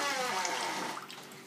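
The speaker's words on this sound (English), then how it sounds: "All the water's drained out." Water drains out of a container in a close, gurgling rush that gradually thins and fades toward a softer trickle over about a second and a half.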